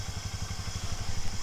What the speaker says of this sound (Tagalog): So yun yung motor natin guys.